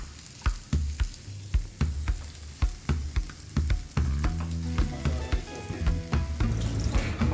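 Indian-style chicken fry sizzling in a pan, with sharp clacks of a utensil stirring at regular intervals, then a steadier, louder sizzle as the cooking intensifies; nearby and without talk.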